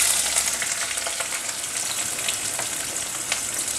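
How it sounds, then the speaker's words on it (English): Onion frying in hot oil with cumin seeds in a preheated wok, giving a steady dense sizzle with faint crackles and occasional stirring scrapes, close and continuous with no talking. "Oil already heated at cumin seed. Now add onion."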